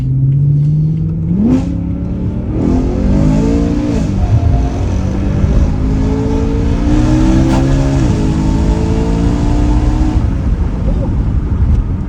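BMW E92 M3 Competition with a 440 bhp Stage 2 tune, its engine revving hard as it accelerates through the gears, rising pitch sweeps broken by shifts, loud and continuous from inside the car with speech underneath.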